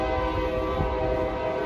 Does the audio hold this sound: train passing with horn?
yes